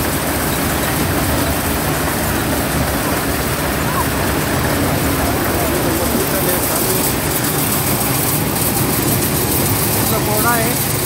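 A tractor engine idles at a maize-field work site, a loud, steady, unbroken rumble filling the whole stretch with a faint murmur of voices underneath.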